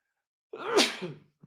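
A single loud sneeze close to the mic, bursting out after a stretch of silence and trailing off within about a second, followed by a faint short sound.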